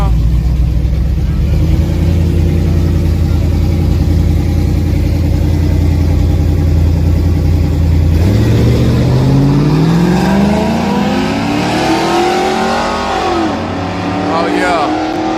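A drag race car idling with a loud, deep rumble, then winding up as it launches down the strip, its engine pitch climbing steadily with people talking nearby.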